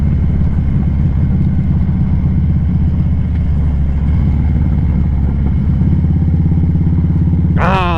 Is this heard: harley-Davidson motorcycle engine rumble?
yes